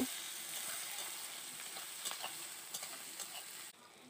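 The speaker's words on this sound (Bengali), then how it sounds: "এবার আমি দিয়ে দিচ্ছি কেটে রাখা পেঁয়াজটাকে ভালো করে ভেজে নেব।" Chopped onions fry in a pan for a fish roe dish, giving a steady close sizzle with occasional clicks of stirring, then drop quieter near the end.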